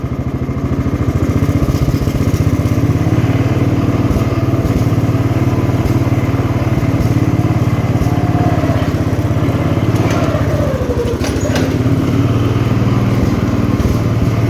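A 1969 Gravely 432 tractor's engine runs loud and close in a steady, throbbing drone, its pitch rising and falling slightly as the throttle shifts, with no talk.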